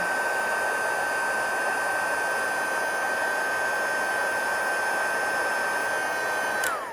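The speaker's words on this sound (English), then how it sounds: "I love heat embossing." A heat embossing gun blows steadily to set embossing powder for a stamped card, a loud continuous whoosh with a high whine that holds for about seven seconds and then winds down as it is switched off.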